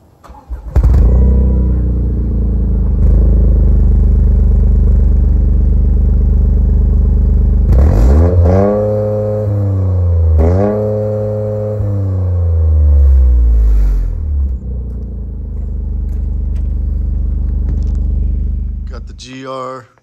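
A 2023 Toyota GR Corolla Circuit Edition with its three-cylinder engine, dual variable valve timing, starts up close by with a loud crank and catch, then settles into a steady idle with two sharp revs.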